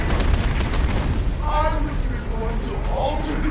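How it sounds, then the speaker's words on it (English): Typhoon augmentation blasts tear apart security turrets in Deus Ex: Human Revolution, a loud rumbling explosion followed by crackling bursts, with a voice talking over it. "the turrets are going to shred us in seconds, so we're going to typhoon them"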